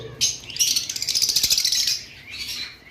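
Brightly coloured lovebirds kept in breeding pairs in cages chirp in a fast, rapid twittering chorus, close and lively, rising and falling in bursts with no voices.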